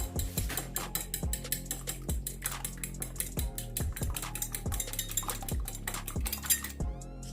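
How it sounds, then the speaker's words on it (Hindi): Eggs whisked in a bowl with a spoon, rapid regular clinking taps of metal against the bowl, close and alone. "तो इसको हम जो है अंडे को अच्छे से मिक्स कर लेते हैं।"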